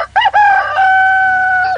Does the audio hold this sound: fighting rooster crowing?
yes